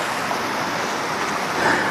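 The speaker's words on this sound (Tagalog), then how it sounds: "Grabe, ang lakas ng lagasaan ng tubig dito" Strong rushing water of a big river, Malaking Ilog in Barangay Kayrilaw near Nasugbu, makes a continuous broadband roar with slight swells, steady and fairly close, with no one talking.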